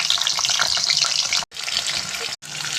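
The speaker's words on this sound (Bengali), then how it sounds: "এই যে কড়াইতে তেল দিয়ে দিলাম, তেলের মধ্যে আলু দিয়ে দিলাম।" Potatoes fry in hot oil in a wok with a steady, close hiss and crackle, broken by two brief pauses.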